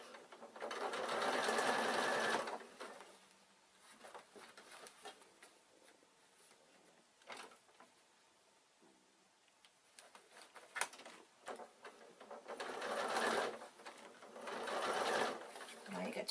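A sewing machine runs fast as it stitches a leather-look bag, with two loud, rapid bursts of stitching at the start and end and quieter handling and scattered clicks between.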